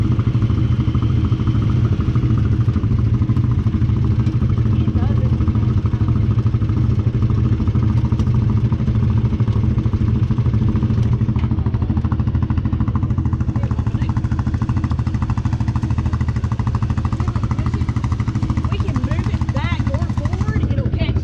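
A Can-Am 1000 four-wheel-drive machine stuck in deep river water, its engine droning loud and steady with clattering mechanical noise throughout, while someone talks over it.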